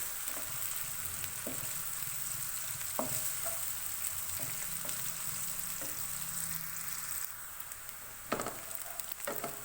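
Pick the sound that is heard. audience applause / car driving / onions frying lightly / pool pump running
onions frying lightly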